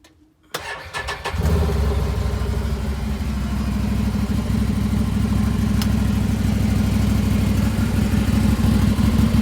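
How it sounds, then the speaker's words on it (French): After a short silence, the engine of a 2019 Can-Am Maverick Sport off-road vehicle with its original exhaust cranks and catches, then settles into a loud, steady, rumbling idle right up close. "Je vais quand même vous allumer le moteur."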